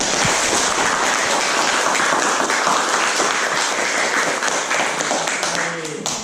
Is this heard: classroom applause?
yes